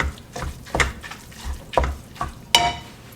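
Food sizzling in a pan during home supper cooking, with repeated stirring scrapes and soft clatter in an irregular rhythm, close and moderately loud, without talk.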